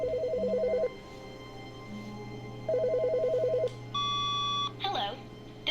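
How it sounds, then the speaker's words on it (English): A telephone rings in two warbling bursts separated by a pause, followed by a single steady electronic tone, in the video game The Stanley Parable: Ultra Deluxe. "Is the phone ringing?"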